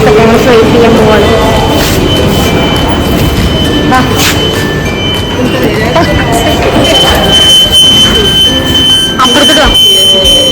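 Interior of a Kochi Metro train running from Ernakulam South toward Tripunithura, a steady loud rumble with rail squeal, a high whine and chimes, while passengers talk throughout.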